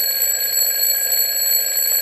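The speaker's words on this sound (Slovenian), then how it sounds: "Budilka pa je že tako glasno zvonila" A loud alarm clock rings continuously with a steady, shrill electronic tone that fills the whole stretch without any pause.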